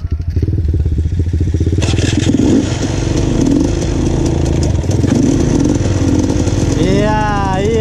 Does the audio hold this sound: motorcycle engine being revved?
yes